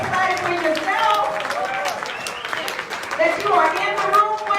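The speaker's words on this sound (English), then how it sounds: "Oh, that was a sad applause." Audience at an Autel EV certification training session in Las Vegas gives a thin, brief round of applause, a scattered patter of hand claps that stays fairly even before tailing off, heard close and alone.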